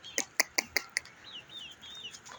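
Chickens cluck close by at feeding time in the afternoon, with a quick run of five sharp calls followed by softer, trailing chirps.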